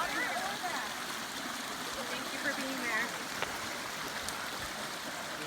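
Creek water rushing steadily along the Appalachian Trail between Springer Mountain and Cooper Gap as hikers wade across, a constant close splashing flow with voices talking over it.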